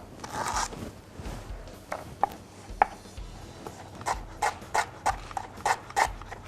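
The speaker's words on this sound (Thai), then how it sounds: "ซอยบางๆได้เลยนะ ซอยเส้นครับ" Knife thinly slicing fresh herbs for a Thai seafood coconut soup, a series of sharp, close cutting taps, sparse at first then quicker and more regular, over a busy kitchen background hum.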